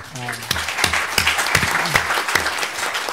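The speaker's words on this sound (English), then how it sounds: "Please some applause to all of our speakers." An audience at a German-Israeli conference applauds its speakers, a dense, sustained round of clapping from a sizable crowd in a hall, with a voice speaking over it at the start.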